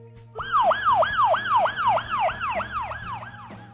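A police car siren wails in rapid, repeated rising-and-falling sweeps, loud and close, cycling about ten times without a break.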